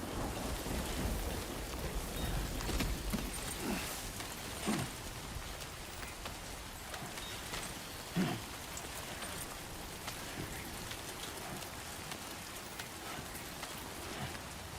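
Steady rain falls hard and continuous on a surface outdoors, a dense close hiss with scattered heavier drops and occasional thumps throughout.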